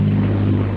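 Avro Lancaster bomber of the Battle of Britain Memorial Flight flying past, its piston engines giving a loud, steady low drone with a strong pulsing hum and no break.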